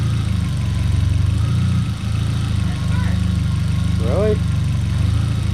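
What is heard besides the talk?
VW MK4 Jetta 1.8T engine started and idling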